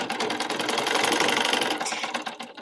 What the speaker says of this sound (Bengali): এখানে ডাবল করে সেলাই দিতে হবে,